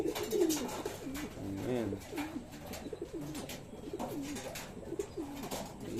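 Pigeons kept for flying coo repeatedly nearby in a soft, rolling rhythm, with a brief spoken word in among the calls.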